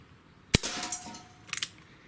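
A Remington 1875 replica BB revolver fires a single sharp crack, followed by a faint ringing and a small metallic clink of the BB striking a target a moment later.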